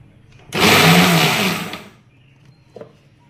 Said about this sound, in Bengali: এটা খুবই হালকাভাবে মিক্সিটা ঘোরাতে হবে, খুব বেশি জোরে মিক্সি ঘোরালে গুঁড়ো হয়ে যায়